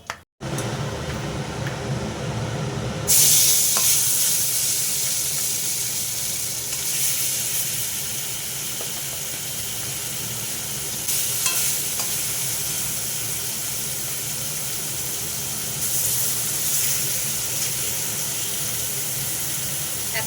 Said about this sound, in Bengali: এবার আমি মাছগুলো ভেজে তুলে নেব মাছগুলো দিয়ে দিচ্ছি কড়াই এক এক করে